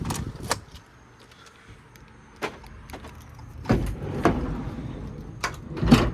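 Rear cargo doors of a 2019 Ford Transit Connect XLT van are unlocked and opened, with several sharp latch clicks and thuds spaced out over quiet, close and fairly loud, with no talk.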